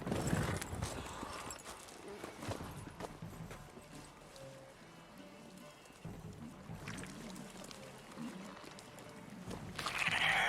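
Horse hooves clopping with a brief whinny in The Witcher 3: Wild Hunt, mixed with voices and other game sounds at moderate volume.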